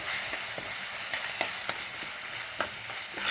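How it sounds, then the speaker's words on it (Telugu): Green chillies frying in hot oil for a tempering, a steady close sizzle with scattered crackles and pops throughout, no talking. "సో పచ్చిమిరపకాయలు వేసేసుకుందాం"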